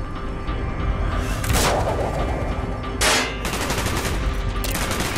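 Gunfire from the video game Call of Duty Black Ops, with dense automatic bursts and loud booming shots that come in heavy waves.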